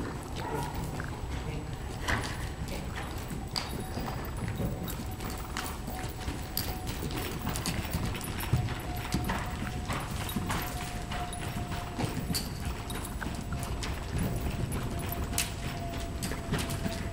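Hooves of a ridden horse moving at a gait, a steady, continuous clip-clop over a broad noisy background, fairly close and unbroken throughout.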